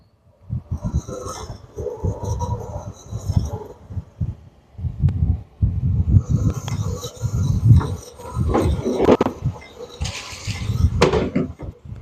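A piston ring from a Buick V8 engine build is cranked against a grinding disc to file the ring gap, producing a series of rough rasping grinding bursts with pauses between them, close up.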